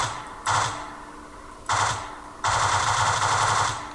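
Automatic gunfire in Garry's Mod as guns shoot at spawned objects: three sustained bursts of rapid shots, the first two short and the last running about a second and a half, loud and close with no talk.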